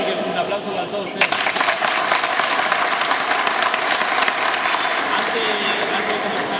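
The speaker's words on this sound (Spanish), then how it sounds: "un aplauso para todos ustedes." Applause from an audience at a Claypole championship award ceremony, a dense burst of clapping that begins abruptly and holds steady, with crowd noise and some voices underneath.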